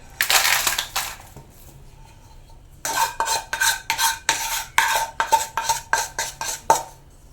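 Roasted spices for homemade sambar powder being stirred and mixed, a burst of dry crunching scrapes at first, then a quick series of sharp scraping strokes in an uneven rhythm, close and fairly loud with no talk.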